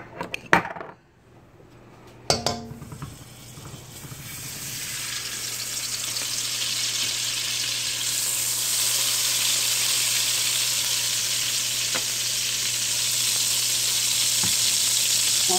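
Butter melting into hot olive oil in a pan, with a few knocks at the start and then a steady sizzle that builds and holds loud and bright.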